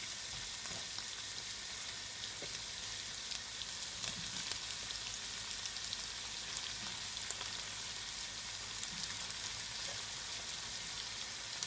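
Butternut squash sizzling as it hits a hot pan alongside chicken, a steady, even frying hiss with faint crackles and pops throughout, close and moderately quiet, no talking.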